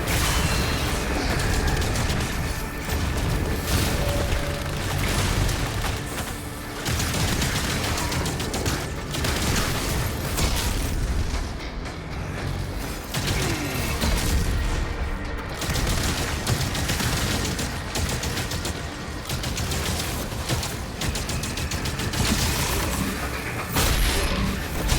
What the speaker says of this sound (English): Damage demons with the auto turret.